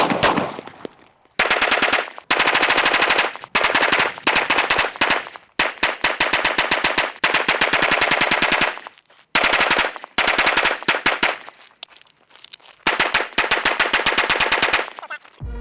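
Pistol fire at a range test comes in loud, close, rapid strings of shots, several fast bursts separated by short pauses across the whole stretch.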